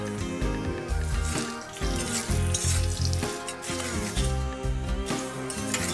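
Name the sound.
carrot and potato frying in mustard oil in a wok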